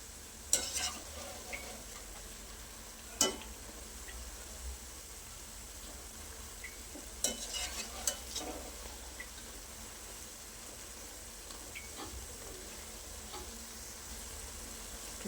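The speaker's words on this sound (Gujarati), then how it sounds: "ઉલટતા પુલટતા સરસ ઉપરથી golden brown light golden brown આવે અને ક્રિસ્પી લાગે ત્યાર સુધી ફ્રાય" Spinach and potato bhajiya fritters deep-frying in hot oil, a soft continuous bubbling sizzle broken by a few sharp clinks and scrapes as they are turned, with quiet stretches between.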